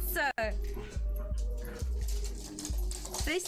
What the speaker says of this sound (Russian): эти собаки